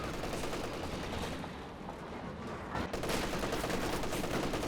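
.50 cal machine gun fire in Company of Heroes 2: a steady, loud stream of rapid automatic bursts, with a brief dip near three seconds before the chatter resumes just as dense, over continuous battle din.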